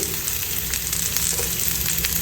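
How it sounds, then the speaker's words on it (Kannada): Onion, garlic, ginger, cinnamon and cloves sauté in a little oil in a pan, giving a steady, close crackling sizzle. "ಚಕ್ಕೆ, ಲವಂಗ ಎಲ್ಲ ಒಟ್ಟಿಗೆ ಹಾಕ್ಕೊಂಡು ಇವಾಗ ಸ್ವಲ್ಪ ಎಣ್ಣೆಯಲ್ಲಿ ಬಾಡಿಸ್ಕೋಬೇಕು"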